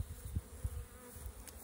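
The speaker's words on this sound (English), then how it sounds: "Got a lot of bees on this next one." Honey bees buzz steadily around an open hive during an inspection, a faint continuous drone with a few low bumps and knocks from handling the frames.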